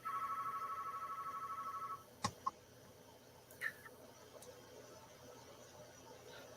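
A phone ringtone or notification chimes steadily for about two seconds, then stops, leaving a quiet room with a few faint knocks and clicks.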